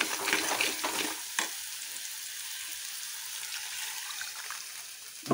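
Masala paste for a fish curry sizzles steadily in a pan, with a few sharp crackles and a brief burst near the start and end as water is poured in.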